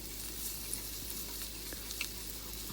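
Carrots and potatoes frying together in a pan, a continuous soft sizzle with a few light stirring clicks and taps, no talking.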